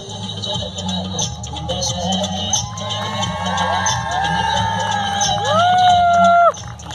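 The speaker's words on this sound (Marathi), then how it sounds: "जोरदार जोरदार जोरदार टाळ्या" At the 2015 Agari Gaurav award ceremony in Thane, a crowd cheers loudly, with high whoops and whistles rising over a continuous roar.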